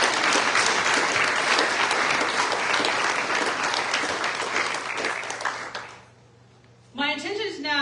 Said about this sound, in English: would everyone please give them a round of applause?